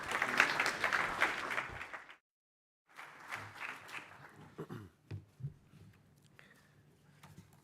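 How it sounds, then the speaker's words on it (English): Applause rises for the Speaker of the Croatian Parliament at the Dubrovnik Forum, with fairly dense clapping that cuts out, returns, thins to scattered claps and then dies away into near quiet. "A round of applause, please."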